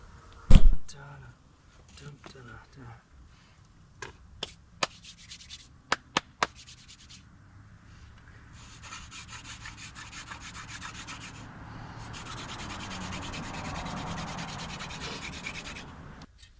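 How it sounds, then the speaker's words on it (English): A few sharp wooden knocks give way to steady, growing rubbing of a wooden hand drill spinning against wood to start a fire, a rasping friction that swells and continues for seconds. "I'm gonna have to do another hand drill"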